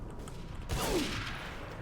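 A single M1 Garand rifle shot in the World War II shooter Day of Defeat: Source, a sharp crack with a short echoing tail over low background game noise, with no talk.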